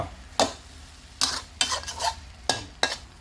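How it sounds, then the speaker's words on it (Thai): A spatula scrapes and knocks against a pan, tossing pork with bottle gourd after the heat is switched off: about five sharp, close scraping strokes at uneven intervals over low background hiss, with no talking. "ใส่หมูลงไป ลุกเล้าเข้ากัน ลุกเล้าเข้ากันอย่างนี้"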